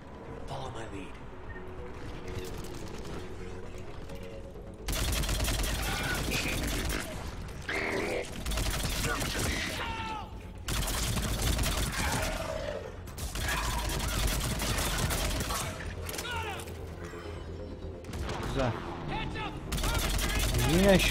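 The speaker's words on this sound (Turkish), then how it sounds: "Çatışma sesi." Gunfight in Mass Effect 3: bursts of rapid gunfire and mechanical clatter come in loud blocks separated by quieter stretches, with talk heard over the combat.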